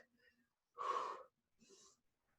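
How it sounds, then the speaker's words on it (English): Audible breaths during a Tabata workout, a strong rushing exhale followed by a softer second breath, close and quiet between pauses. "In through the nose, out through the mouth."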